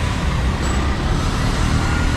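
Moving road traffic makes a loud, continuous broadband roar from cars, buses and trucks passing nearby, heard without pause.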